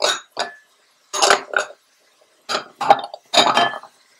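Metal clinks and clatter of a lid being set onto a cooking pot of menudo, several short bright knocks in separate bursts with quiet gaps between, close by and alone.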